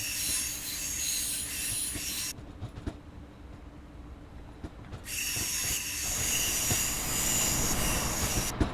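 DB BR 612 train in Train Sim World 2 rolling in with a steady rumble and hiss, bright wheel squeal fading out for a few seconds then returning loudly, close and without talk.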